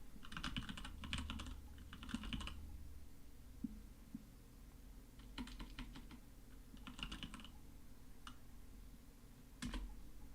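Quiet bursts of rapid clicking from typing on a computer keyboard come in several separate runs with pauses between, over a low steady room hum.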